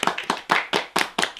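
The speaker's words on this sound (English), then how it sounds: "clap your hands" Hands clap in a brisk, even rhythm, six sharp claps in quick succession from a small group nearby, with no other sound between them.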